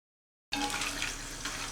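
Cashew-shaped namak pare snacks drop into hot oil and start frying, setting off a sudden loud, dense hiss and sizzle after a moment of silence. The crackling continues steadily and close up, with no talking.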